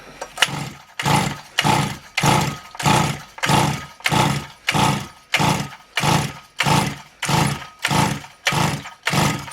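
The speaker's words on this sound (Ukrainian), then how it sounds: "Дивіться, скільки я дергав, вона би вже мала запуститися, а вона ще не заводиться." A Motor Sich 270 chainsaw is pull-started again and again without catching, about a dozen even, rhythmic rasping cord pulls heard up close with no engine firing.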